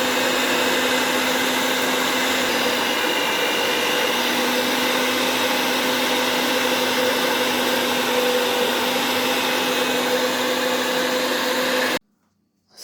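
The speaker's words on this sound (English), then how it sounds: "I'm going to cream my butter and my sugar" An electric mixer creaming butter and sugar for a Jamaican sorrel fruit cake, a steady loud motor whine with a constant hum that runs unbroken for about twelve seconds before cutting off abruptly.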